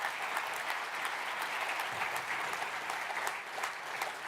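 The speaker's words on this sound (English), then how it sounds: "so first, give a round of applause to Martin." A conference audience claps for a speaker, producing steady, dense applause from a crowd that holds at an even, moderate level throughout.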